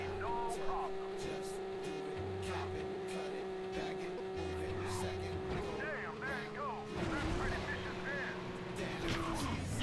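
A race car in Midnight Club II revving and driving fast, a steady engine drone with gear-shift changes and skidding bursts, with someone talking over it.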